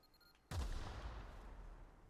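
Landmine explosion in the video game The Outer Worlds, a single sudden deep boom that bursts in after a quiet moment and rumbles on, decaying slowly.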